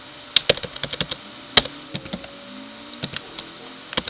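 Computer keyboard keys tapped in short, uneven bursts while entering a network command in a command prompt, crisp close clicks with brief pauses between keystrokes.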